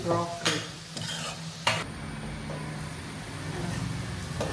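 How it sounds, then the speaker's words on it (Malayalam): A mixture with egg being stirred and cooked in a home kitchen pan, giving a steady close sizzle broken by a few sharp scraping clatters early on, then continuous frying hiss. "ഇത് മിക്സ് ചെയ്ത് മൂടി വെച്ച് വേവിക്കുന്നത്"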